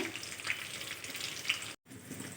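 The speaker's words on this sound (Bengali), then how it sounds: "দিয়ে দিচ্ছি ফোড়ন, সাথে কয়েকটা কাঁচা লঙ্কা।" Panch phoron spices and green chilies sizzle in hot oil in a pan, a soft, steady crackling hiss with a brief drop-out near the end.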